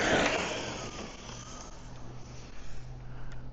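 An HPI Vorza S RC car accelerates away, its motor giving a quick rising whine that fades as it pulls off, followed by a steady, fairly faint drone of the car running at a distance.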